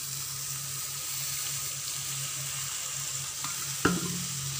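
A paste of char magaz and poppy seeds fries in a pan with a steady hissing sizzle, then a splash of water is added near the end, making a brief sharp burst before the sizzle continues.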